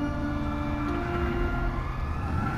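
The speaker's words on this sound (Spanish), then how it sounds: "Y el claxon." A Halloween DLC motorcycle's horn in GTA V Online, a loud sustained tonal blare holding steadily throughout with layered harmonic tones over low engine rumble.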